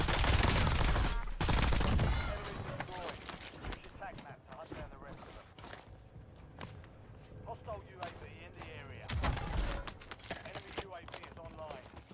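A new light machine gun fires in Call of Duty Warzone, sending loud rattling bursts at the start and again later, with game noise and people talking over it.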